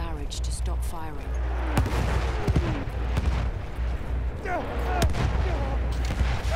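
Artillery barrage and gunfire in Battlefield 1: repeated sharp gunshots and heavy booming blasts crack over a low rumbling battlefield, dense and loud, with voices talking through the din.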